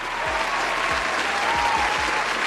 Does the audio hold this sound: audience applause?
yes